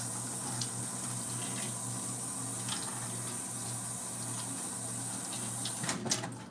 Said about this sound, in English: Just want to rinse it off in case there was any dust in the cabinet.